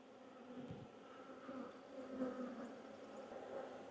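A steady, low, droning buzz comes from honeybees massed around a newly given queen, a continuous hum at moderate volume with no talking over it.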